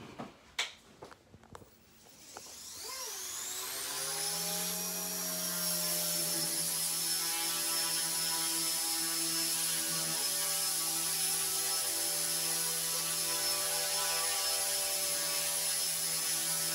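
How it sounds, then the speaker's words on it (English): An XK K110 RC helicopter spins up after a few clicks and settles into a loud, steady high-pitched whine with a vibrating hum, heard close and alone. "That creates vibration in the heli, and it's going to move, it's going to bounce around and everything."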